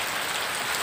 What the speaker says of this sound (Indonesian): Dari pagi sampai sore hujan terus.